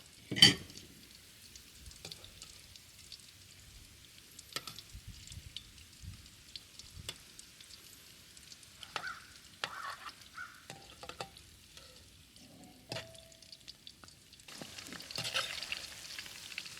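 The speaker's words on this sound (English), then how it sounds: "when you deep fry anything, the first minute do not touch it" Scallops deep frying in oil give a faint, sparse crackle and pop with scattered bubbling spits over a quiet background, growing to a brighter hiss near the end.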